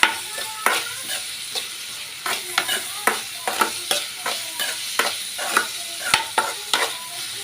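Onions sizzle and fry in a pan for tomato egg curry while a spoon stirs them in repeated scraping strokes, a steady rhythm of sharp clatters over continuous close sizzling, with no talking.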